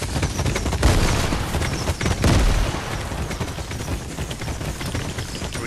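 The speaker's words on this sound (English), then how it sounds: "I got rockets going at him." Rockets fired in a video game explode in a dense, rumbling barrage, with heavy booms near the start and again around the middle, followed by continued crackling blasts and rumble.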